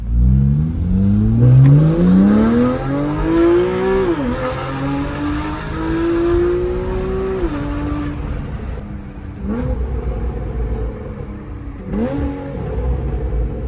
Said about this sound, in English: It is such a cool sounding note coming out of this car.